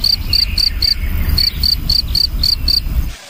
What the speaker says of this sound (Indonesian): Wow, ini jangkrik teman-teman.